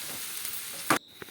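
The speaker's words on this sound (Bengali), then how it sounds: "এবার কড়াইতে দিয়ে দিলাম পেঁয়াজ কুচি" Chopped onion frying in a wok makes a soft sizzle that ends in a brief louder clatter of stirring, then drops to a faint hiss with one small tap.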